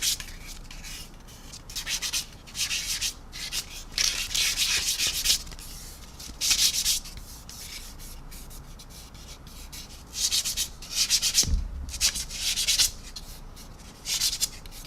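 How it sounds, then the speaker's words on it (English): Repeated strokes of a basic sanding sponge rubbing over painted plastic on a 1/144 Zvezda Boeing 737-800 model airliner, a dry scratchy rasp in uneven bursts, close and fairly quiet with short pauses between passes. "So just a basic sanding sponge."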